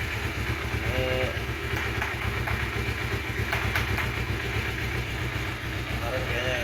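Red original 2011 Kawasaki Ninja 250 with carburetor idling steadily, a continuous low engine rumble running throughout with brief faint voice fragments over it.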